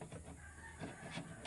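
Chickens clucking at a farm where eggs have been hatching in an incubator, with soft repeated clucks and fowl calls against a steady background hum, no talking.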